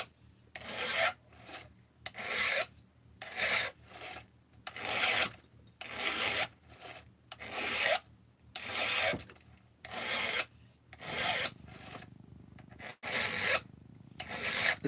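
About a dozen rhythmic rasping strokes of a flat file across a chainsaw chain, each swipe distinct and close, in a steady back-and-forth cadence with brief pauses between.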